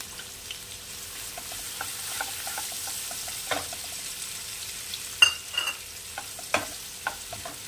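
Chopped onions added to a pan for a magur fish curry, frying with a soft sizzle and a few sharp stirring scrapes and clicks, close and fairly quiet.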